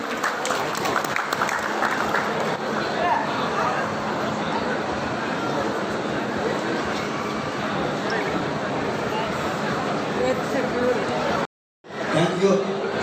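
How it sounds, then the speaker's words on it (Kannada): An audience gives loud, sustained applause at a public event, dense clapping that runs steadily for several seconds, cuts off abruptly and then resumes briefly. "ಎಲ್ಲರೂ ಜೋರದ ಚಪ್ಪಾಳೆ ಬರಬೇಕು ಅಂತ ಕೇಳ್ಕೊಳ್ತಾ ಇದ್ದೇನೆ"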